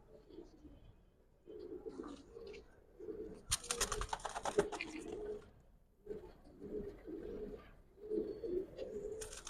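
Giribaz pigeons, including a green makra male, coo repeatedly in soft, low, bubbling bursts close by, with brief pauses between calls and a moment of rustling handling noise.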